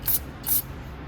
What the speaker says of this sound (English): But you'll just want to put this red tip on there. Just put it right into this and then just spray.